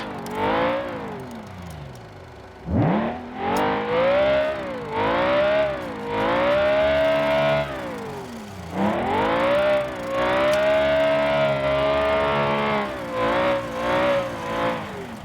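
A 1954 racing car beached and stuck during a race, its engine revving loudly and close in repeated rising and falling bursts with brief pauses between.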